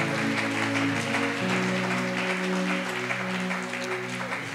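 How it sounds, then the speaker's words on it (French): A church congregation applauding during a French-language sermon, sustained dense clapping with a held musical tone underneath, no speech over it. "Acclame le Seigneur Jésus."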